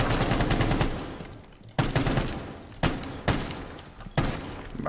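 Gunfire in Rainbow Six Siege, sustained automatic bursts in four loud rattling volleys separated by brief gaps, close and dominant.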